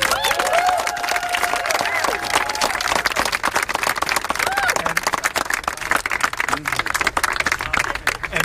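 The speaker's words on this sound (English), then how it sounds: "give her a round of applause" Crowd at a health care rally clapping, sharp individual claps forming dense rapid applause that stays loud for the whole stretch, with cheering voices and some talk mixed in.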